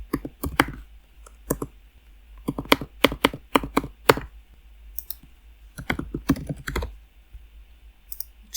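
Typing on a computer keyboard while filling in an online form, in irregular bursts of crisp, close key clicks separated by short pauses, with no talking.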